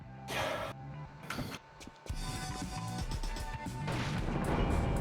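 Grenade blasts from the video game The Thing: several loud, booming bursts in quick succession, separated by brief lulls, with rumbling debris and a louder, sustained explosion toward the end.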